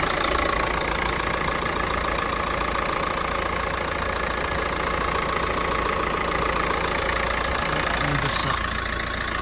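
A used Volkswagen Touran or Renault Megane engine idling at an outdoor used-car market in Lutsk, a loud, close, steady mechanical drone that runs evenly throughout.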